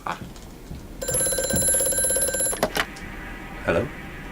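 An old telephone rings in the Amnesia: A Machine for Pigs video game, a bright, insistent bell trill lasting about a second and a half, followed by a few clunks and a faint rustle.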